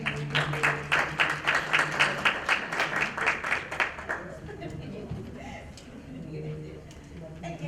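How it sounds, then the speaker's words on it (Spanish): Applause from the audience at a technical panel on social impact and community investment in Mexico, rhythmic clapping for about four seconds that then fades into murmuring and voices. "Damos un fuerte aplauso a Brenda"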